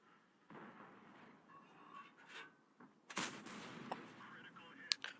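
Tank cannon fire in World of Tanks, with a sharp, loud gunshot crack midway through, a few smaller impacts and bangs around it, and faint game background noise.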